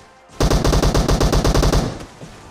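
Automatic gunfire in the video game PUBG: a single rapid burst of about a dozen loud, evenly spaced shots that ends abruptly, followed by a short fading tail.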